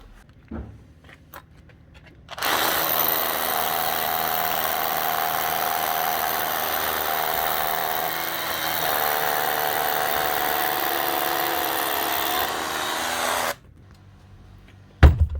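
A cordless Bosch 36-volt power tool, freshly repaired with a new piston, O-ring and grease, starts up and runs at a steady, loud whirring pitch for about eleven seconds, then cuts off abruptly, with a faint clunk afterward.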